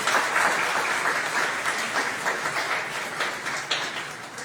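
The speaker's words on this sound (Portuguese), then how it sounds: "Você pode aplaudir o Senhor?" A church congregation breaks into loud, sustained applause, dense overlapping hand claps filling the hall and slowly tapering off over a few seconds.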